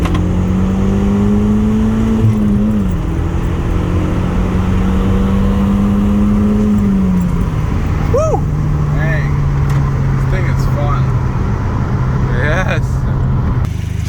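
An Audi TT idles and drives at low revs, a steady engine hum with slight pitch shifts as it pulls up, while a person talks over the motor.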